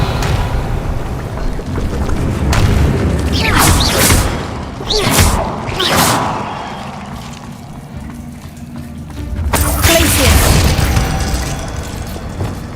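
Spell effects going off in a Harry Potter video game: a series of loud whooshing bursts and booming impacts, several in quick succession and then another heavy surge after a lull, close and forceful.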